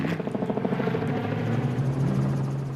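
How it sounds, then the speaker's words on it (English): A helicopter flies overhead at the Vryburg 400 off-road rally, its rotor thumping in a fast, steady pulse over a continuous engine drone, loud and close for the whole stretch. "This helicopter footage gives one a clear understanding as to how difficult it must be to navigate"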